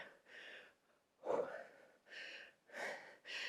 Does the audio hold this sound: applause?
no